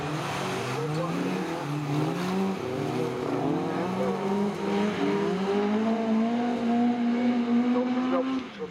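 Autograss race cars roar around a dirt track in Scunthorpe, several engines revving and droning together at mid distance for the whole stretch, with the pitch rising and falling as they pass. A commentator talks over the engines.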